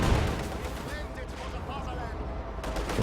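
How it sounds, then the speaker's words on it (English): Cannon fire from a Soviet KV-1 heavy tank in the Company of Heroes 2 strategy game, a loud booming blast at the start followed by rumbling battle noise and lingering gunfire throughout. "But he gets a couple of nasty hits to open up with that KV-1."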